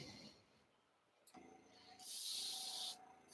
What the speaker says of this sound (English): So now I've just got some salt mixed with water on there before I spray.